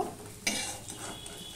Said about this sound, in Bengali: এবার আমি এটা একটা পাত্রে তুলে নেব